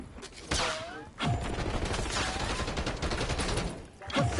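Rapid gunfire in Call of Duty, sharp shots and bursts crackling over a busy battlefield, with fresh volleys starting around half a second, one second and near the end, plus faint whistling tones in between.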